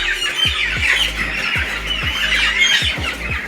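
Flock of broiler chickens on a farm, raised for sale at about four weeks, squawking and squealing constantly in a dense, loud chorus with sharp repeated calls overlapping close by.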